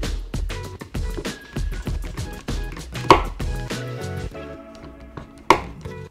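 A knife with an S35VN steel blade slices through a cucumber, giving a quick run of crisp, rhythmic chopping clicks followed by a few louder, sharper cuts, close and clear.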